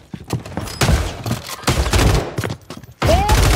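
Distant gunfire in the Warzone 3 battle royale, bursts of sharp automatic shots repeating in clusters across the clip, loud and dense, with a brief voice near the end.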